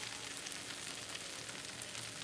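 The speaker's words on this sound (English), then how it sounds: "That butter sizzle." Butter sizzles in a pan under slices of crusted French toast, a steady crackling hiss that stays constant and fairly quiet, close by, with no one talking.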